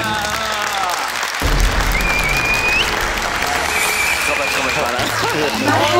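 A studio audience at the Hit Lahza ba Lahza entertainment show breaks into sustained, loud clapping after a brief lull, with scattered voices and cheers mixed into the steady applause.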